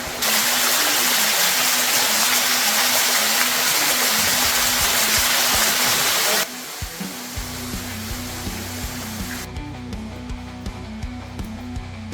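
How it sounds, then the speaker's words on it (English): A waterfall at Petit Jean State Park, Arkansas, roars as a loud, continuous rush of falling water close by. The sound drops in level and character partway through. "Let's go get a close-up of the waterfall."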